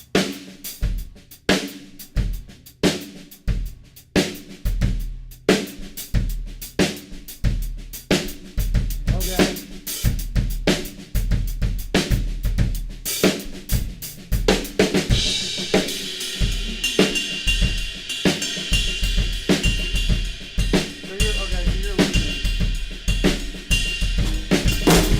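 A drum kit plays a beat with the left hand on the snare and the right hand on the hi-hat, giving sharp rhythmic hits that grow denser and more continuous toward the end, close and fairly loud.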